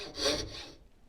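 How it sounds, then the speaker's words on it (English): Hand saw cutting through wood, a short rasping stroke that peaks early then trails off into near silence, close and fairly quiet. "gradually rotate my wrist while I'm sawing"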